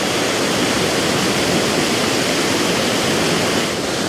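A river in spate after recent flooding, carrying debris, gives a loud, constant broadband rush of water with no pauses and no voices.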